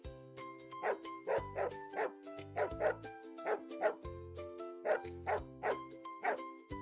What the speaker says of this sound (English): It's the dog. Woof woof.